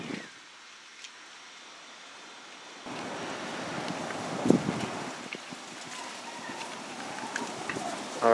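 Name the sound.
strong wind of a haboob dust storm in Phoenix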